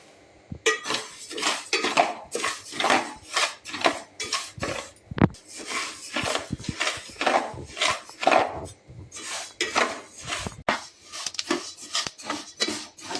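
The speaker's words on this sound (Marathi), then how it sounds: "आता आपण मेथी भाजून घेऊया" Fenugreek seeds dry roasting in a pan for methi ladu, stirred steadily with a utensil, giving continuous dry rattling, scraping and rasping clatter of seeds against metal, close and fairly loud with no talking.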